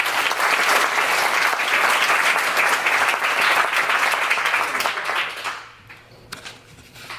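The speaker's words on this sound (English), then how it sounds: "So a round of applause, please" Audience at a tech meetup applauding, dense steady clapping from a room full of people that fades out over the last couple of seconds.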